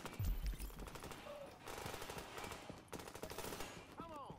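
Enemy gunfire in the video game The Division, with rapid automatic bursts and scattered shots rattling continuously, a heavy boom at the start, and someone speaking over the shooting.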